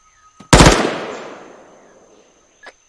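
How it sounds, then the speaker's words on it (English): In a video game, a close, loud burst of rapid gunfire hits hard and then trails off into a long, echoing decay, with a faint click before it and a brief thump near the end. "What the fuck are you shooting at?"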